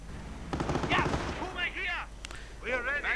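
An MG42 machine gun fires in bursts in a World War II strategy video game, dense rattling volleys under an ongoing commentary voice.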